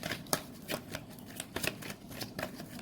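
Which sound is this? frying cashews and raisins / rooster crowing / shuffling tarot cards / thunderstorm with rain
shuffling tarot cards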